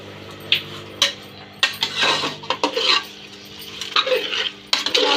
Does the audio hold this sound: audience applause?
no